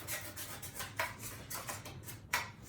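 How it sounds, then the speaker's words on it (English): Continuous scratchy rasping of a blade sawing through a flat styrofoam platform for printmaking, close up, with a few sharper squeaky strokes. "the sound of the styrofoam cutting"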